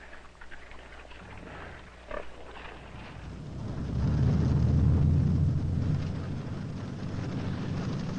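Hogs on a winter farm grunt and snort now and then over a steady low rumble that swells in the middle and then eases off, with no voices.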